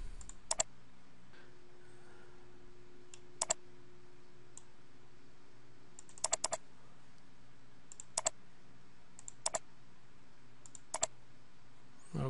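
Sharp, quiet computer mouse clicks on a PC, coming singly and in quick double-click pairs at irregular gaps over a faint steady hum, heard close with no talk.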